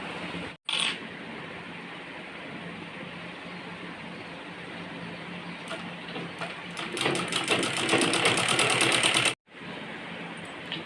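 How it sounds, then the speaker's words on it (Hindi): A sewing machine stitches along folded fabric at a neckline, a continuous rapid mechanical whirr that stops briefly near the start, builds louder toward the end, then cuts off and restarts. "अब हम इस फैब्रिक को इस तरह से फोल्ड करते हुए पूरे पे सिलाई चलाएंगे।"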